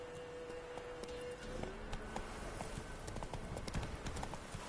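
The horse Roach in The Witcher 3 video game trots along with a steady clip-clop of hoofbeats, fairly close and continuous, under a faint tonal hum and without speech.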